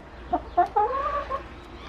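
A chicken clucks a few times close by, short clucks building into a longer, drawn-out call, with no one talking.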